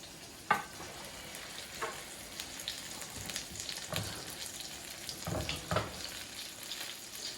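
Pierogi sizzle and crackle steadily in butter in a hot pan, with scattered sharper pops and spits throughout; no voices.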